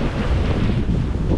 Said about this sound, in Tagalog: kasi mas malakas pa ang hangin